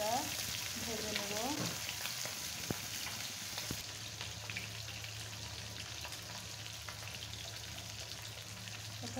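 Eggplant, potato and taro fry in hot oil in a pan, a steady, close crackling sizzle that holds throughout, with a few clinks and stirring scrapes near the start.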